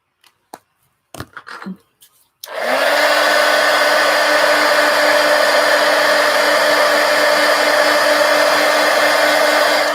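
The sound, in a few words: hair dryer drying a watercolor painting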